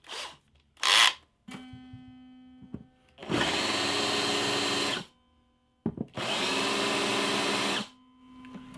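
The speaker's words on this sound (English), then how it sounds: "we'll countersink that hole, and then we'll install the BridgeMagic" A power drill countersinks a hole in a guitar in two sustained bursts of about two seconds each. Shorter clicks, a brief motor blip and quiet pauses come before and between them, close up and with no talking.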